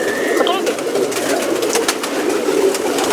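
Pigeons at a breeder's home in Bagnan, Kulgachia coo and call nearby in a continuous flock murmur, with a few brighter chirps and a voice in the background.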